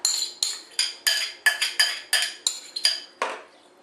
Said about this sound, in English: So I'm just going to go ahead and add that seasoned tuna right in on top of the pasta